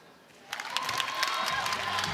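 Crowd applauding and cheering at a Suncorp Super Netball match in Hobart, Magpies v Firebirds, a broad wash of claps that swells in suddenly and holds steady, fairly loud and filling the arena.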